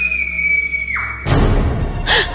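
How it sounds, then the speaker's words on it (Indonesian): A steady high tone cuts off into a loud, sudden shrill scream at night, broad and piercing, with a second sharp cry right after. "ada suara jeritan yang terdengar nyaring"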